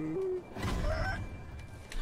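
Evil roosters in a video game give short clucking calls over a dense game soundscape with a low rumble and a brief high tone, all fairly loud and close.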